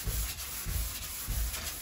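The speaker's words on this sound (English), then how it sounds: "So we're starting the sanding process." A bathtub surface being sanded by hand with 400 grit sandpaper, heard up close as three rhythmic rubbing strokes, each a soft scratchy swish with short pauses between.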